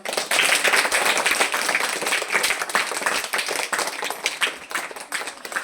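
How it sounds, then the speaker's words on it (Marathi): Classroom children clap for a student who built a multiplication table, a burst of many quick, uneven hand claps that starts loud and gradually thins out toward the end. "बरोबर तयार केलाय का हिच्यासाठी टाळ्या वाजवा"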